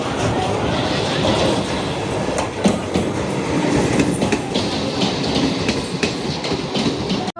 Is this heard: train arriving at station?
yes